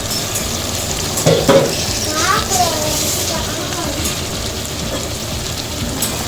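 Cuttlefish and potato pieces sautéing in hot oil as they are stirred, a loud continuous sizzle with scraping stirs, and brief talk near the start.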